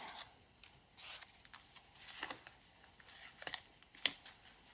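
Sheets of paper being torn by hand for a slashed paper journal, several short ripping bursts with pauses between, close and fairly quiet.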